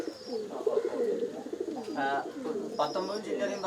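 Racing pigeons in a loft give low, rolling coos throughout, with several overlapping calls close by and a voice talking over them.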